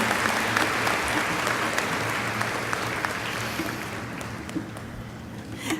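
An audience at a 2018 Averett University spring commencement applauds the award recipients, with sustained, thick clapping that holds at an even level before thinning out near the close.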